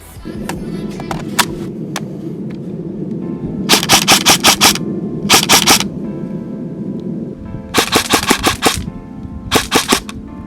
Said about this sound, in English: I'll just show you a bit of shooting with the guns, just so you can see how they actually perform.